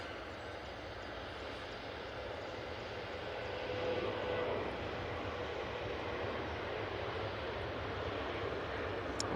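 A Jet2 airliner, the 'Grey Lady', departing Manchester Airport, its engines a broad continuous roar that swells slightly partway through and holds steady, heard from a distance without talking.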